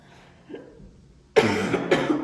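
Two sharp, loud coughs in quick succession, breaking a near-silent background.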